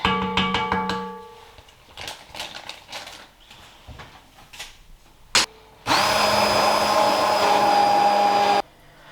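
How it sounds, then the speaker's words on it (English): Countertop blender blending hot broccoli and cheese soup with cream cheese, a loud sustained motor whir starting abruptly after clinks and handling knocks, running for several seconds before cutting off. "we're just going to add in the cream cheese as well before we blend it"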